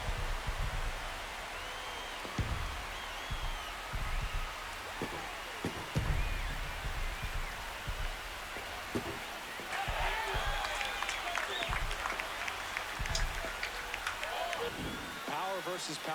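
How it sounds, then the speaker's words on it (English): A baseball stadium crowd at an MLB game between the St. Louis Cardinals and Los Angeles Angels roars and applauds steadily after a home run, a broad, sustained wash of cheering beneath a commentator's talk. "Here comes the crowd."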